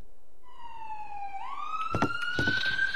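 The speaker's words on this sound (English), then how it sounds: "Police sirens?" A police siren wails in a video game, a single rising tone that swells and holds loud and close, with a few short thuds and clatters breaking in near the end.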